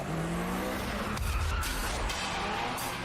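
An anime Mazda RX-7 FD3S race car from Initial D slides through a drift. It makes a loud, steady engine roar with tire skid noise throughout and no voices.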